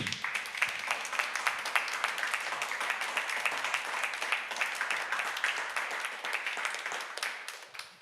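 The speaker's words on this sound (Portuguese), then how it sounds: "Você pode dar uma salva de palmas para Cristo?" A church congregation at an evening service claps together, a fairly quiet, steady patter of many hands with a low hum underneath that cuts out before the clapping fades.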